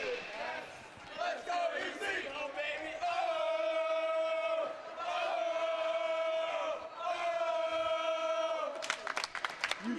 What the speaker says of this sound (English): This crowd, absolutely electric.